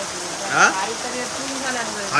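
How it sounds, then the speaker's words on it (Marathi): Heavy downpour on a farm in Konkan makes a steady close hiss, with people talking and laughing over the rain. "पाऊस बघ काय लागतंय"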